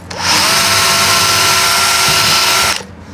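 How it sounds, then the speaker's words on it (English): Power drill fitted with a centering bit runs steadily for about two and a half seconds while fitting a garage door, a loud, close, continuous whine that starts and stops abruptly. "Using a centering bit, it's ideal for this."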